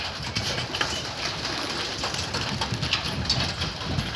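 Pigeons in a neighbourhood coop coo softly and shuffle, a low, continuous murmur of birds close by with a faint engine-like hum underneath.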